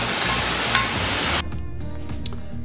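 Beef and mushrooms sizzle loudly as they brown in a pot for a gluten-free red wine beef stew; the frying is bright and dense, then drops to a quieter simmering crackle partway through.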